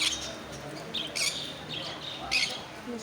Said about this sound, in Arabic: اوكي عندنا هنا هدول الطائرين طيور